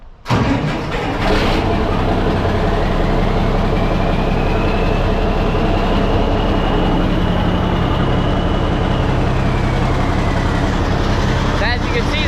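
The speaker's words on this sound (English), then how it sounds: "Tractor's on now." International Harvester 1066 tractor engine cranking briefly, then catching and settling into a loud, steady diesel rumble that runs on without a break, with a faint clatter near the end.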